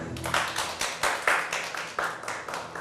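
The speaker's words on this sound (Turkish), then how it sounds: "Şu an alkış alabilir miyim arkadaşlar?" Small-audience clapping in a living room after a sword show, a handful of people applauding in uneven bursts with distinct individual claps, fairly close and moderate in level, with no speech.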